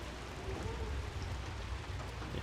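Steady rain pours in the Hunt: Showdown game world, a dense, even hiss that holds at a constant level throughout without gaps or other clear sounds.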